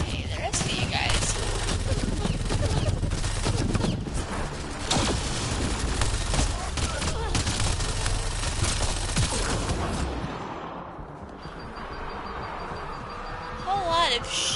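Gunfire in the video game Mass Effect Andromeda: loud bursts of rapid shots and booming impacts in heavy combat, dying away near the end, with voices talking throughout.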